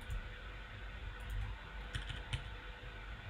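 Steady computer keyboard typing for a coding project demo, a continuous run of quick clicks with a few louder key strikes, close up and with no voice.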